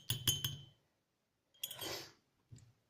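A spoonful tipped into a drinking glass makes bright clinks, with a quick cluster of three taps, then a longer scraping clink, and a final single tap, close and distinct with no talking.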